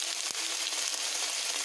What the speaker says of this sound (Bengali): এবারে একটু নেড়ে নিচ্ছি, শুকনো লঙ্কা দিয়ে দিলাম